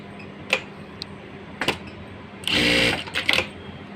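An industrial sewing machine runs in a short, dense burst of stitching, set off by a few sharp mechanical clicks and thumps before and after as the machine's functions are worked.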